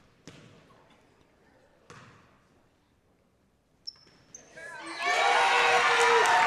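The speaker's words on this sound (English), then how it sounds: "And you hear them cheering" Fans at a girls high school basketball game between Ludlowe and Darien erupt into loud, sustained cheering in the gym after a few quiet ball bounces and scattered sounds, the roar swelling and holding to the end.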